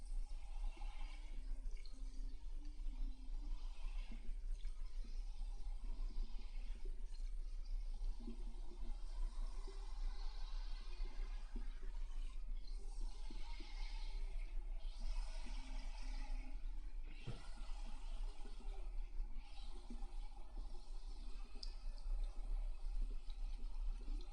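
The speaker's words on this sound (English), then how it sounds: "lift up the hair, rinse off everything at the bottom" Steady running water rinses shampoo out of hair at a cosmetology shampoo bowl, a continuous close splashing flow that never stops, with no talking.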